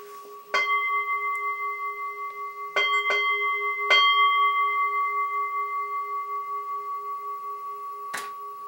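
A bell is struck about five times at irregular intervals. Each clear, close strike leaves a long, sustained ring that hangs on between hits.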